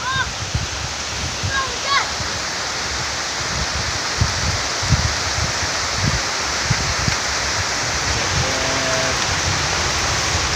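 Rain falling outdoors in a garden, a steady hiss with soft irregular patter and a few faint bird chirps in the background.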